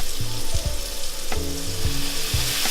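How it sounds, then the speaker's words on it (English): Frying mushrooms hiss loudly and steadily as oat porter is poured in to deglaze the pan, a dense, close sizzle with bubbling and crackle throughout and no voices. "We're going to deglaze. Traditionally, with mushrooms and toast, you would use a rich red wine. We're going to use an oat porter."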